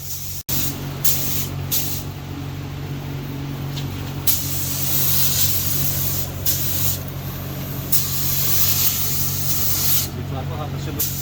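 A spray gun hisses steadily in long bursts, spraying paint on a 1991 Honda CRX Si, close and loud, with brief gaps where the trigger is released; a voice speaks faintly underneath.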